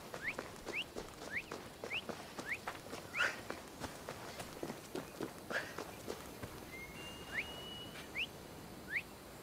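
A horse's hooves clip-clop at a steady walking rhythm in Assassin's Creed Odyssey, with a few higher chirping sounds scattered over the steps and no talking.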